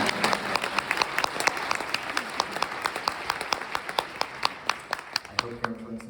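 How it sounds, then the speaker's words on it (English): Graduation ceremony audience applauding for a nursing class at Golden West College, dense steady clapping from a large crowd that thins out near the end. "Please give a round of applause for yourselves."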